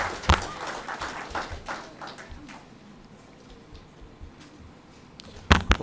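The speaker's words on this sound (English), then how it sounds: "perhaps we can give a rounding applause to Krista" A conference audience at a youth ministers' event gives a round of applause for Krista. Scattered, fairly faint clapping thins out and nearly dies away midway, then a few sharper claps return at the end.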